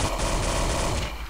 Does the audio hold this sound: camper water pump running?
no